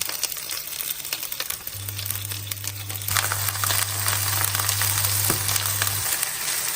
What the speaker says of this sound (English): On low heat, saute the ginger slice and the scallion whites until fragrant.